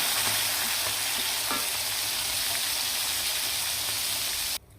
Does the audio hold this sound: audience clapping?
no